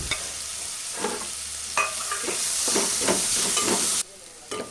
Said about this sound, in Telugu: పేస్టు పచ్చివాసన పోయే వరకు ఇలా వేయించుకోవాలి